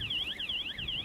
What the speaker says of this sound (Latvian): Signalizācija tāda zvanīja.